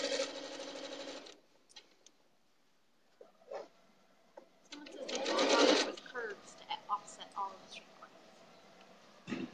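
Sewing machine running short bursts along log cabin quilt seams, quiet stop-start stitching that is near and faint, rising into one louder, longer run, with brief clicks and pauses between the bursts.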